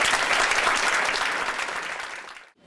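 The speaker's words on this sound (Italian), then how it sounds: "Un applauso per Mario" Concert audience at Teatro Ghione clapping for Mario, a dense, steady applause that fills the hall for a couple of seconds and then cuts off abruptly.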